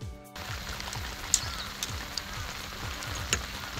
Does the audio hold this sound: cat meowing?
no